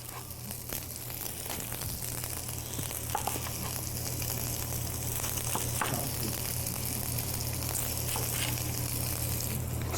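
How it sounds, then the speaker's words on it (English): Shallots and onions fry in a hot pan with a steady, close sizzle and light crackle that runs unbroken throughout, with no talking. "get that frying to bring the flavor out of the onions too"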